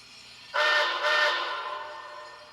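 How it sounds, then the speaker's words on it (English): Forward signal whistle from an MTH HO-scale Cab Forward AC-6 steam locomotive model with Proto 3.0 sound: two short, clear whistle blasts in quick succession, loud and close against a quiet background. "F9 is forward signal."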